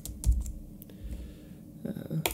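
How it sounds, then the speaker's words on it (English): Keys clack on a computer keyboard in a quick, uneven run of close taps, with a couple of heavier strokes and no voices. "just hit K to go down to keyboard"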